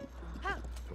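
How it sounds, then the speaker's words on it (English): A horse in the video game Tears of the Kingdom trots with soft, muted hoof clops. A short tonal horse snort or whinny rises briefly in the middle over a low, steady game background hum. "I'm going to jump off this horse."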